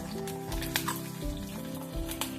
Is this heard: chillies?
yes